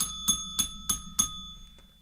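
A small bell dings four times in quick even succession, crisp and close with a ringing tail, dinged on a podcast after a question is answered, then a few faint ticks.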